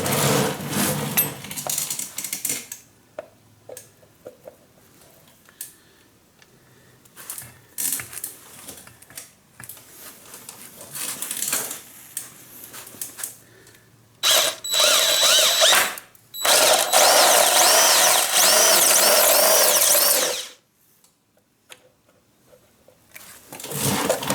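A 2022 Honda Grom motorcycle is drilled to fit a charging port. A power drill whirs in several loud close bursts of varying length, with quiet handling noises in the gaps.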